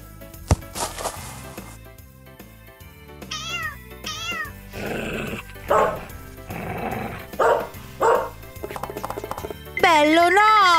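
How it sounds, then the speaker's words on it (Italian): Short dog barks ring out among meows, cartoon-like effects and a voice speaking, all over playful background music. "Smettila di abbaiare!"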